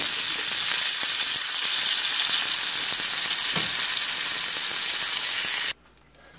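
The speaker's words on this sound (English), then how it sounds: "We're just gonna sear our steak on medium-high heat." Steak sears in a lightly oiled pan on medium-high heat, a loud, steady, close sizzle with small crackles that cuts off abruptly near the end, with no talking.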